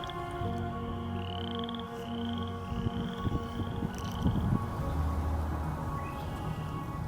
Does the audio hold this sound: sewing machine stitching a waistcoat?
no